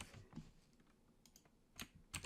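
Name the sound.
typing on a computer keyboard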